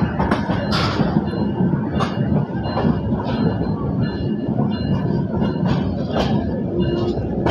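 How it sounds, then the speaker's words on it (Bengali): Silk City Express train rolling into Airport railway station, with a steady loud rumble of wheels and carriages and repeated clacks on the rails throughout. "ডাউন সিল্ক সিটি এক্সপ্রেস ট্রেনটি বিমানবন্দর রেল স্টেশনে প্রবেশ করলো"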